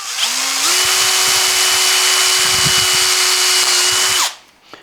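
A power drill whines steadily and loudly as it bores a hole through a guitar body, holding one pitch for about four seconds before cutting off abruptly.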